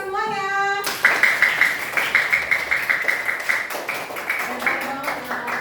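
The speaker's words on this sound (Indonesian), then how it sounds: "Tepuk tangan buat kita semuanya." Children in a classroom clap together in a quick, steady rhythm for several seconds, loud and close, after a brief voice at the start.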